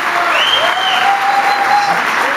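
Diners at a Fonseca family year-end dinner give Bolito a loud, sustained round of applause, with a long whistle or cheer rising and holding over the clapping.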